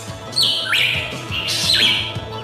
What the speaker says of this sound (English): let me introduce you to the Hooded Pitahui